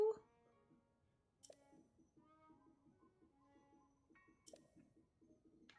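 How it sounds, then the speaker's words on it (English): Cuckoo call from the video game Zelda: Tears of the Kingdom, a soft, low, repeated cooing that comes in two short rhythmic runs, faint and fairly close, with a few clicks between. "Oh, that was a very loud cuckoo."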